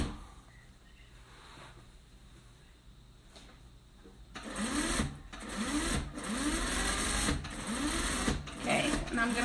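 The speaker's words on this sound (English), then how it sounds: "My sewing machine. So it's an Artisan." After a few quiet seconds, an Artisan sewing machine starts stitching, a rapid mechanical whir running in bursts with brief pauses, close by.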